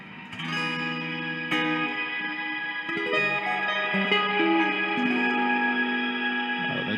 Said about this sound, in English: it adds some octaves in the reverb, so it has that big ethereal sound